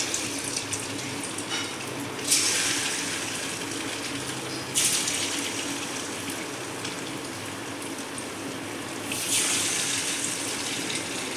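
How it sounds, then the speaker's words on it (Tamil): Quail 65 pieces frying in hot oil in a kadai, a continuous soft sizzle and crackle with three brief louder hissing bursts, steady and fairly faint throughout. "கடாயில் எண்ணெய் ஊற்றி வச்சுருக்கிறேன், பொரிச்சு எடுத்துடலாம்."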